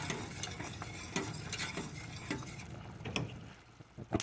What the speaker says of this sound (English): Keep stirring. You got to whisk it real good so there's no lumps.